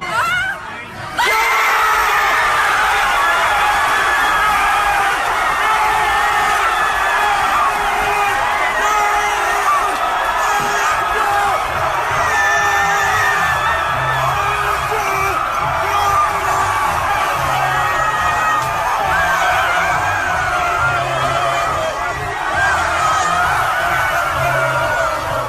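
A crowd of fans cheers loudly at a Michigan event for an NBA champion, with little kids screaming and shouting in a dense, continuous roar that stays close and sustained throughout.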